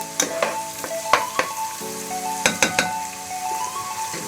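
Spices and garlic fry in a pan, a constant sizzle broken by sharp metallic scrapes and clinks of a spoon stirring, close and fairly loud, with no one talking.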